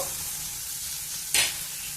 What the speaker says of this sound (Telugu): కారము పచ్చివాసన పోయేంత వరకు వేగనిద్దాము